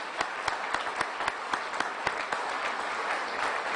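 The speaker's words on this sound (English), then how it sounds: "big round of applause" Sustained applause from a crowd at a hospital ceremony honoring Navy sailors, a steady dense clatter of many hands with a few sharper individual claps standing out, moderately close and continuous throughout.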